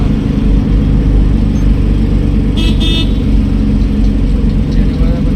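Steady evening traffic on the Chennai highway near Hyderabad, a loud continuous engine and road roar with a short, bright car horn toot near the middle, voices faintly mixed in.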